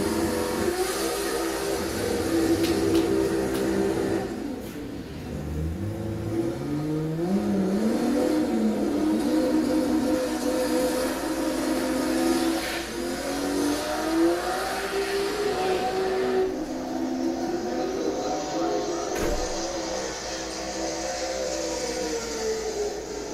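Drag racing cars, including a Toyota Supra, launch off the line with loud engine roars that climb in pitch through the gears, one pull after another, with a brief dip between runs.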